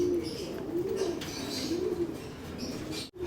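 Pet pigeons in a home loft and aviary coo in steady low repeated calls, with faint rustling and occasional wing sounds around them.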